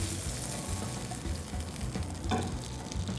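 A small amount of butter sizzles in a hot frying pan while a tuna pancake is cooked, giving a soft, steady crackle with a brief louder hiss partway through.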